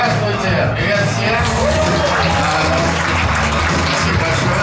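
A stand-up comedy club audience claps steadily, dense and close applause mixed with crowd murmur, lasting a few seconds without a break.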